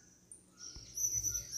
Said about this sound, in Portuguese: vocês estão ouvindo ao fundo os cantos dos passarinhos?